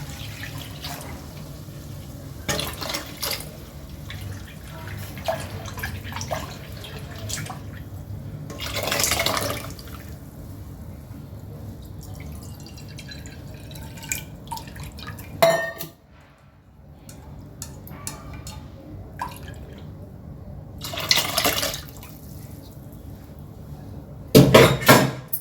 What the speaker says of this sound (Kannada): ಕುಕ್ಕರಿಗೆ ಸ್ವಲ್ಪ ನೀರು ಹಾಕ್ಕೊಂಡು ಮಿಕ್ಸ್ ಮಾಡಿ ಹಾಕ್ಕೊಳ್ತಾ ಇದ್ದೀನಿ